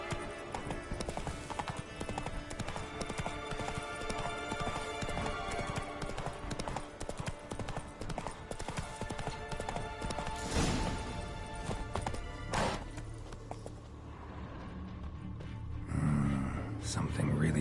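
Horse hooves clip-clopping in the video game The Witcher 3, a steady rhythmic trot of close hoofbeats under music and game sounds, with a brief crash and a gasp near the end.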